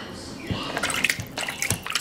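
Shallow water sloshes and drips as a small sulcata tortoise is set down for a soak, with soft splashes and trickles close by.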